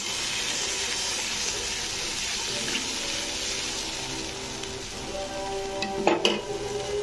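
Chilli powder in hot oil with water added in a pan, a steady bubbling hiss of simmering liquid, with a brief burst of stirring clatter near the end, no voices.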